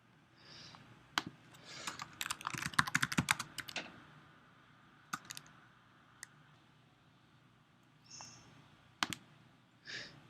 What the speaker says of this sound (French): Donc je clique sur Next.